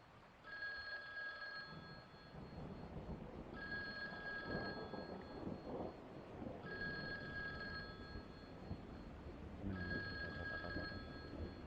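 An old telephone bell rings in the horror video game The Guest, four long electronic trills separated by pauses, fairly faint over a low rumbling background.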